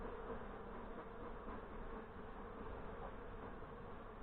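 Honeybees buzz in a hive during a nuc install by a new beekeeper in northern Michigan, a dense, steady, close drone that never lets up.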